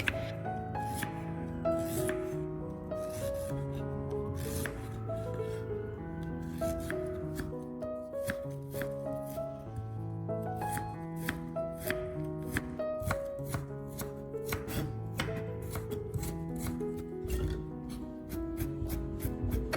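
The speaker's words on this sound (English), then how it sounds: "I peel the small ginger root, slice it thin, julienne it, and then mince it into tiny pieces to match the size of the garlic" A knife chops steadily and rapidly on a cutting board, slicing and mincing small ginger root, with crisp close taps running continuously under a backdrop of melodic music.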